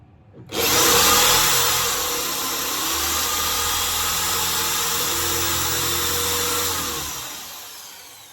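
A power drill drives a screw into plywood on a model railway layout, starting abruptly and then holding a steady loud whirring grind for about six seconds before winding down, close up with no talk.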